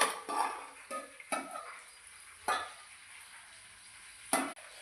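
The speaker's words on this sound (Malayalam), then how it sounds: "ബാക്കി നമ്മൾ ഇവിടുന്ന് പൊരിക്കുകയാണ്" Chicken frying in a pan, with short bursts of sizzle and stirring scrapes arriving in an irregular rhythm and quieter pauses between them, close and moderately loud, no talking.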